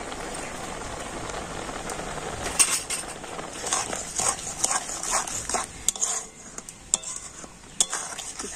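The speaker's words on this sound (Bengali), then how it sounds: "চিনিটা দিয়ে আবারও কিন্তু এভাবে কন্টিনিউ নাড়াচাড়া করব।" A sweetened yogurt and milk mixture being stirred in a pan for a milk-and-sugar sweet: a steady soft scraping and swishing with a faint sizzle, broken by light clinks of a spoon against the pan, close by and with no voices.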